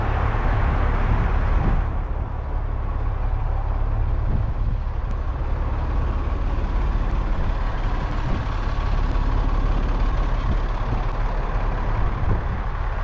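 SEPTA buses sit idling at Penn's Landing in Philadelphia, giving off a continuous deep diesel drone that stays steady and close for the whole stretch, with faint city ambience and no talk.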